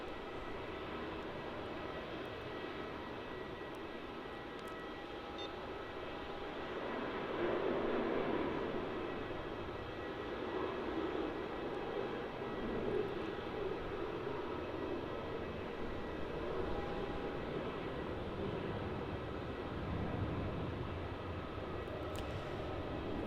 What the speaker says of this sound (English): And this is flight QF878 going to the Gold Coast.